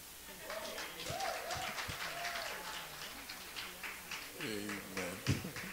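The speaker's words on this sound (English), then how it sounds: "Let's give them a hand of applause." A church congregation at an anniversary celebration claps in a modest, fairly quiet burst while a voice speaks over it and another sings out; the clapping stays in the background throughout.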